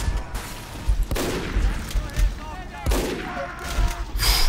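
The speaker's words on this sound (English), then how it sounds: "Oh god, that's a sentry." A sentry gun in Team Fortress 2 unloads rapid bursts of gunfire in several close, loud volleys with sharp cracks and impacts, and a player talks over the shooting.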